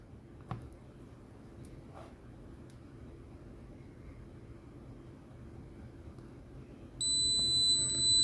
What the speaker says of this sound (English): You'll hear that annoying beep, which is interesting.